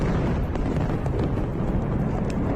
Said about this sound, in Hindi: वहां एक जोरदार धमाका हुआ